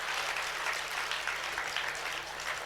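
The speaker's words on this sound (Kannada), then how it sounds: "ಅವ್ರಿಗೂ ಜೋರು ಚಪ್ಪಾಳೆ ತಡ್ರಿ." An audience claps at a Kannada stage talk, producing a dense, steady wash of applause that holds throughout at a moderate distance.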